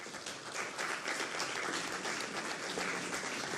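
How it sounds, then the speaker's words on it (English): An audience at a Ghana Journalists Association anniversary symposium applauds in welcome of Professor Ekia Opoku-Abrechum, a steady wash of many hands clapping that runs unbroken for several seconds, moderately distant and fairly soft. "She deserves a bigger round of applause."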